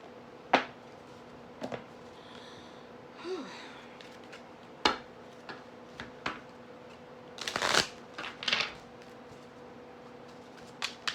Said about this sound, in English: I'm going to go ahead and I'm going to pull some cards from the Keepers of Light Oracle deck.